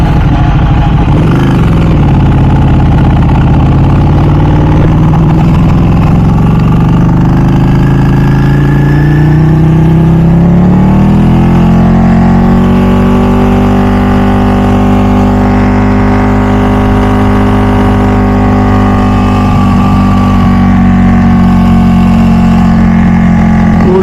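A 2014 Ducati 1199 Superleggera superbike engine running close and loud, a deep uneven V-twin burble idling steadily before the pitch climbs smoothly into a higher, sustained rev.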